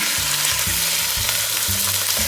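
Chicken breast frying in hot oil in a pan, a steady loud sizzle with bursts of stirring and scraping, no voices.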